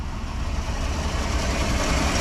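A cold 1966 Ford Mustang engine runs with a loud, low rumble right after starting, steady and close with no talking.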